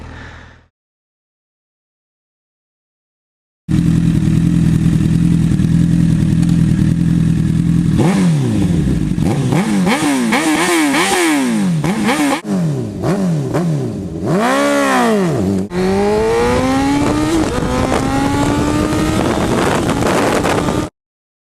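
Honda CBR600RR sport bike rips through a zero-to-sixty run on an Ohio country road, its engine climbing through several gears with sharp upshift drops, loud and close under heavy wind buffeting on the microphone.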